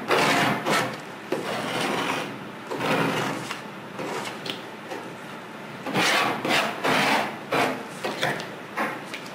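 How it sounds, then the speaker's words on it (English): A mat scraper scrapes paper residue off a craft cutting mat, a series of repeated, close, dry rasping strokes in an uneven rhythm, heard alone without talk. "You can use the chisel tool or the mat scraper to scrape off these larger"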